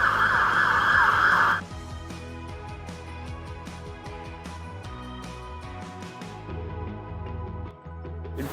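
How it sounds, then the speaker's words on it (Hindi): A fire brigade vehicle siren wails loudly at first in a London city street, then drops away as it passes, leaving busy traffic noise and a steady urban hum. "ये तो चलो फायर ब्रिगेड की गाड़ी है।"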